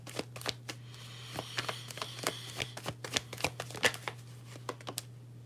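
Tarot cards being shuffled: a run of crisp riffling snaps and flicks in irregular bursts, close up and fairly quiet over a steady low hum, with no talking.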